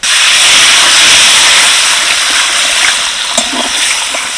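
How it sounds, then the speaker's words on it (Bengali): Water poured into a hot pan of potatoes frying with spices for a drumstick curry bursts into a loud, steamy hiss that slowly settles, with a few faint clinks near the end. "এবার দিয়ে দিচ্ছি জল"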